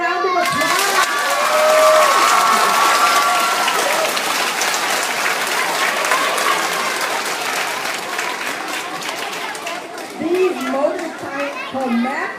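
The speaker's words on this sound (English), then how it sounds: "Give them a round of applause." Applause from an audience of children and guests at a school performance, loud sustained clapping mixed with kids' shouts, cheering and chatter, tapering off near the end.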